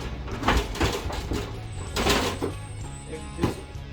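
The sliding door of a 2017 Honda Odyssey is being hung, giving repeated clunks, knocks and rolling scrapes of metal hardware at an irregular pace, close by.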